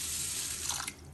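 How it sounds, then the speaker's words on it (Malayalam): Water is poured over dosa rice in a bowl to soak it, a soft, steady hiss of flowing water at close range that tapers off near the end. "ഇതിലേക്ക് നല്ലോണം മുങ്ങിക്കിടക്കുന്ന പാകത്തിന് വെള്ളം ഒഴിച്ച്"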